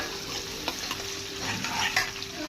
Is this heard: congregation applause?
no